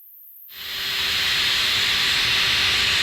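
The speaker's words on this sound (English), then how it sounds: "you can actually hear the fan in the recording kind of start up" A small GoPro Hero 9 Black camera cooling fan spins up from silence into a steady airy whir with a faint constant hum underneath, holding level until it cuts off.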